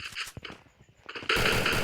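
Gunfire in Free Fire on the Bermuda Remastered map crackles in short bursts, then a loud sustained burst of shots and noise takes over near the end.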